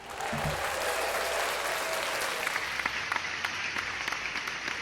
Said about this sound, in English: Let's get another round of applause for man for being here.